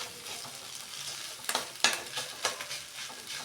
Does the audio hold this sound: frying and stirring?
yes